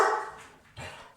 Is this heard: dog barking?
yes